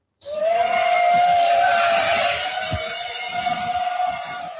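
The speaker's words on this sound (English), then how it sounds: "then you will hear the hum of drones in the sky." Drones in the sky give a steady, droning hum that hangs in the air, loud and sustained, with a faint rumble beneath it and no voices.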